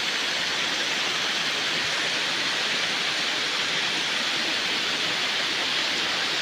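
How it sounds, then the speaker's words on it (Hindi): Spring water pours steadily from a pipe after good rain, a loud, continuous close-up splashing rush with no pauses and no voices. "ये जो ऊपर से पानी आ गया, ये देखिए इधर भी पानी मिला है।"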